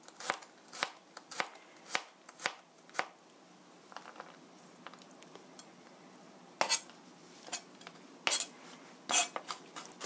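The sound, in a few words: knife slicing and mincing garlic cloves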